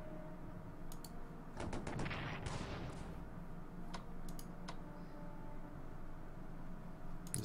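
Gunfire in the World War I strategy game Strategic Command: World War I, with a few sharp cracks and a burst of rapid shots over a steady low rumbling battle background, no talking.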